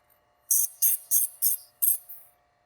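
A grinder sharpens a chainsaw chain in five short, sharp bursts of high grinding that stop and start in an irregular rhythm, with near silence between them.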